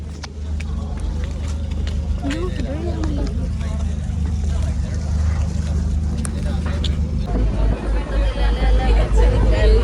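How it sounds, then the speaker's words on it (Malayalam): Boat engine rumbling steadily beneath chatter and crowd babble on a boat ride from the jetty at Fort Kochi, with water sloshing nearby and the engine note shifting near the end. "ഞങ്ങൾ ബോട്ട് കെട്ടി കയറി."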